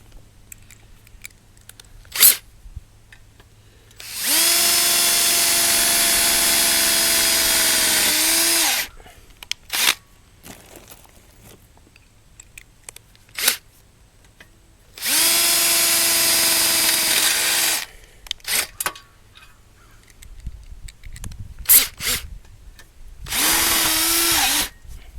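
A power drill drives screws into wooden boards of a goat and sheep loafing shed, three long steady whirring runs of several seconds each, separated by quieter gaps with small knocks and handling sounds.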